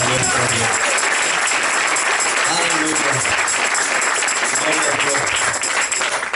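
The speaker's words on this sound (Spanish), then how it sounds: "¿cuánto pueden dar un aplauso fuerte?" Church congregation at a Baltimore service applauding loudly, a continuous dense roar of clapping from a large crowd that holds steady to the end, with voices faintly beneath.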